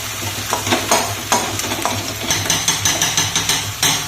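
Four hilsa fish heads with prawns frying in a pan, stirred with a spatula in quick repeated scraping strokes over a loud, close, constant sizzle.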